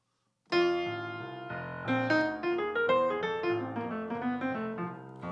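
An improvised jazz line, likely on piano, moves in and out of the chord changes over a cycled pattern: dense sustained chords with a moving melodic line on top, loud and close, with no talking.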